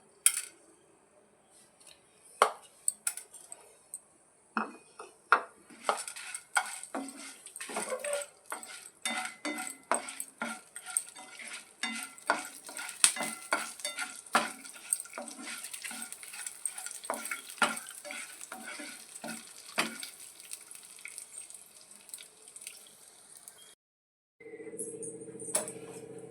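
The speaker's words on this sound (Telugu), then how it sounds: "ఆయిల్ బాగా హీట్ అయిందండి తాలింపు సరుకు కూడా వేసేద్దాం" Crackling and popping of tempering spices, chillies and curry leaves in hot oil, with many sharp clicks and occasional utensil clatter, ending in a brief pause and a louder hiss.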